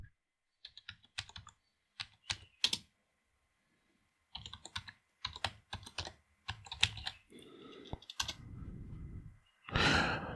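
A password is typed on a computer keyboard, with bursts of quick close clicking keystrokes separated by pauses, a sigh, and a final louder clatter.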